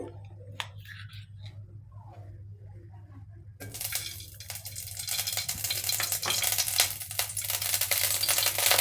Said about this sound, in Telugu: నెయ్యి కొద్దిగా తరగనిద్దాము జీడిపప్పు ఎండు ద్రాక్ష వేయించుకుందాము